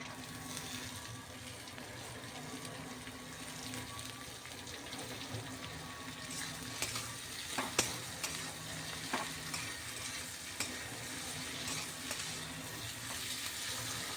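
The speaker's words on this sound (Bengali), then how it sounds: "আলুটা একটু ভাজা ভাজা হতে হতে আমি মশলাটা করে নেবো।" Potatoes fry and sizzle steadily in a pan for a Bengali vegetarian dish, with scattered scraping clicks of a spatula stirring them near the middle and end; no one speaks.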